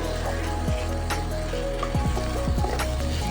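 Raw chickpeas frying with egg masala in a pan give off a continuous close sizzle, with light clinks of a spatula or utensil stirring now and then.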